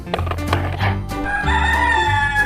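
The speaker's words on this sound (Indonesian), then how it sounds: "Di sini ada ayam jantan" A toy rooster sounds a loud electronic cock-a-doodle-doo crow, a single drawn-out call close up, with no talking.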